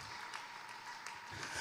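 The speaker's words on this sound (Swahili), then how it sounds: "Pigie Yesu makofi" A congregation claps for Jesus during a Sunday church service at KKKT Kariakoo, producing steady, fairly faint applause that fills the room throughout.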